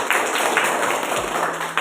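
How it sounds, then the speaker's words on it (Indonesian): A classroom of students applauds a group presentation with a brief, dense burst of many hands clapping, steady and fairly loud, over a faint electrical hum. "Beri tepuk tangan untuk mereka."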